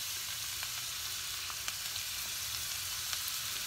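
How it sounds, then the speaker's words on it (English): Onions sizzle in hot oil in a pot with a soft, even crackle and tiny pops, steady and close for the whole stretch. "Oh, there, the oil sounds right."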